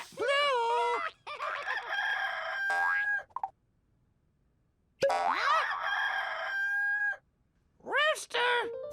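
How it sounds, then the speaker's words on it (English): A cartoon rooster crows in a toddler's first-words animation, loud and close: two long, bright calls separated by a short silence, followed by a brief third burst. "Rooster!"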